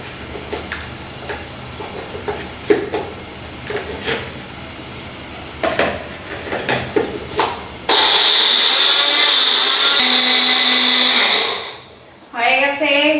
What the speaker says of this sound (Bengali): তো এবার গ্রাইন্ডটা করে নিই।